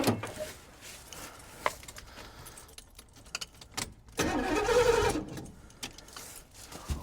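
An abandoned Pontiac G-body station wagon's engine being cranked, with irregular starter whirring and mechanical clatter and a longer cranking burst in the middle, close by and without talk.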